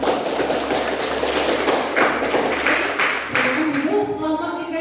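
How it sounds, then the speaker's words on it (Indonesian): A classroom of students clapping together for a presenting group, a steady burst of many hands under a lively room with voices, fading toward the end. "Tepuk tangan buat kelompok 2."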